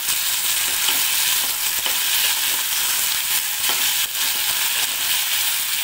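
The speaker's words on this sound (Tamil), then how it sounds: "அந்த கோவங்காய் வந்து எண்ணெயிலேயே வதங்கட்டும்" Sliced ivy gourd and onion sauté in hot oil in a pan, giving a steady, continuous close-up sizzle with occasional stirring scrapes and no voices.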